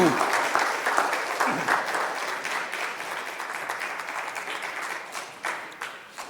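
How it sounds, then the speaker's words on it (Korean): A church congregation applauds to welcome a guest preacher, with loud, steady clapping from many hands that fills the room for several seconds before thinning out toward the end. "박수로 환영해 주시기 바랍니다"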